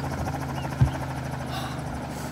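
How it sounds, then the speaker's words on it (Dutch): A helicopter flies in a video game as a steady droning engine whir, with a brief low thump partway through. "Maar die helikopter gaat een beetje traag."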